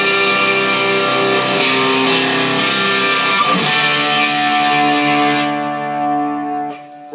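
An electric guitar through a cranked distortion pedal and an Ernie Ball MVP volume pedal rings out a sustained, saturated chord that slowly fades, gritty and loud with no voices.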